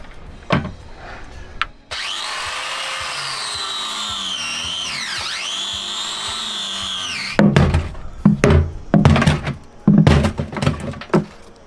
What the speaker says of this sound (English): I think an angle grinder, I can do it with an angle grinder.